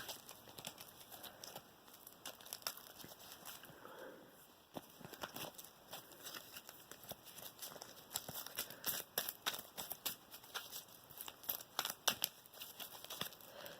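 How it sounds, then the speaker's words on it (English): A deck of Yu-Gi-Oh cards being shuffled up close, giving a rapid run of crisp papery flicks and riffles that grows busier and louder toward the end, with no talking. "let's go ahead and shuffle this up one more time for another"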